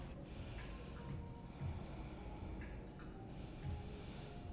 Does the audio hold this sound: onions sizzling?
no